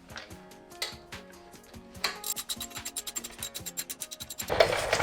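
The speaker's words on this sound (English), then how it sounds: "Now to remove the caliper, we're going to remove 2 bolts." Ratchet wrench with a 13 socket loosening the brake caliper bolts on a Jeep Commander, close and alone, at first in slow separate clicks, then in a fast steady run of ratcheting before a final scrape.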